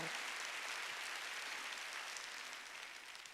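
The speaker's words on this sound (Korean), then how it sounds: "박수 치며 하나님께 영광 돌리고" Congregation clapping during a church worship service, a steady dense wash of applause filling the sanctuary from start to finish, easing slightly toward the end.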